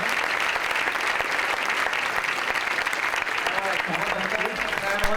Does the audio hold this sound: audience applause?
yes